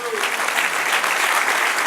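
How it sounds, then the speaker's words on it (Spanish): A church congregation claps in a dense, steady burst of applause, close and fairly loud, with voices mixed in. "Dale un aplauso al Señor."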